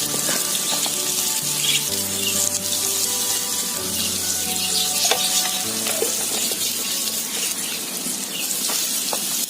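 Beef frying in oil in a clay pot, a steady dense sizzle with stirring scrapes running throughout at close range, fairly loud and continuous with no talking.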